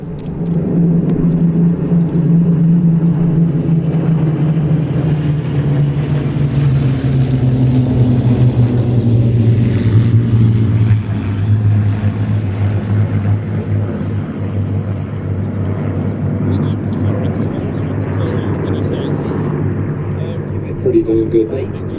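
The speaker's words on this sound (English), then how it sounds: "This is the last pass of the formation, says Paul." Aircraft formation making a last low pass at an air show, a deep droning engine roar with a slowly falling pitch as the planes sweep by, loud and sustained.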